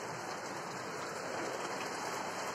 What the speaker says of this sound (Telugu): వర్షం అయితే వచ్చేస్తుంది ఫ్రెండ్స్